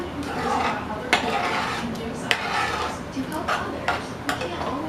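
Chicken and dumplings being stirred in a pot: a spoon scrapes and taps against the pot in a few sharp clinks over a soft, continuous background, close by and moderately loud.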